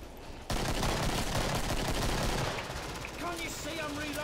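Dual Beretta pistols firing in the video game Killing Floor: a sudden, dense, rapid volley of shots starts loud and close, then thins as a voice briefly speaks near the end.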